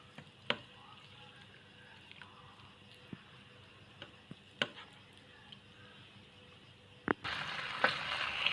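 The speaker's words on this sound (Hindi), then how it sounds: "ये हम इसको अच्छे से फ्राई कर लेंगे चिकन के गलने तक" Marinated chicken frying in oil, near and at low level: a soft steady sizzle with scattered sharp clinks and taps from utensils, then the sizzle rises abruptly into a louder, hissing burst near the end.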